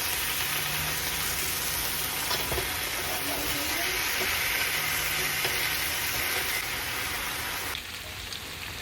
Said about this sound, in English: So we have to flip the meat now.